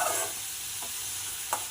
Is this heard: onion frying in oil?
yes